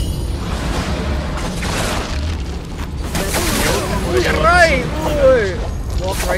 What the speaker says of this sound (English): She's using a cannon!